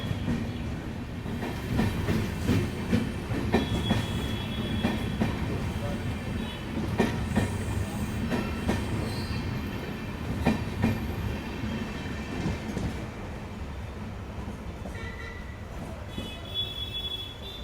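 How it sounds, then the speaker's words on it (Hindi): The Shanti Express pulls out of Chhayapuri railway station in Vadodara with a continuous heavy rumble and rhythmic clickety-clack of wheels, occasional squeals, and faint voices in the background. "इसी के साथ हमारी शांति एक्सप्रेस का डिपार्चर हो रहा है छायापुरी रेलवे स्टेशन से।"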